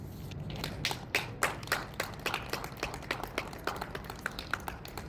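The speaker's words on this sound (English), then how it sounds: "Give her a round of applause again, please." Sparse, uneven hand claps from an audience after a poem reading at a prison-reform rally, individual claps distinct and fairly close, with footstep-like taps and low background rumble throughout.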